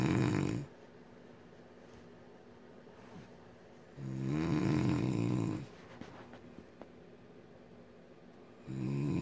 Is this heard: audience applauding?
no